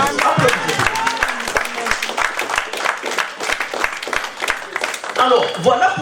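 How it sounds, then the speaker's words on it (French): Congregation clapping in a church service, a dense burst of hand claps from many people, with rhythmic sharp claps running throughout and voices calling out over it, growing fuller near the end. "clap for Jesus. Applaudissez."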